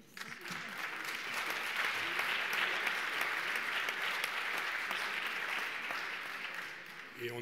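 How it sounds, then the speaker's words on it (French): Continued audience applause at an awards ceremony, steady broadband clapping rising after a moment and carrying evenly for about seven seconds before easing, with speech faintly beneath. "On peut encore les applaudir."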